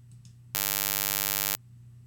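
A synthetic impulse train generated at a 48 kHz sampling rate, heard as a loud, steady buzzy tone that starts abruptly, holds for about a second, then cuts off over a faint background hum.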